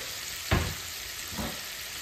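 Shrimp cooking in a pan hiss with a steady sizzle, broken by two short scraping stir sounds a moment apart, close and moderately loud with no talk.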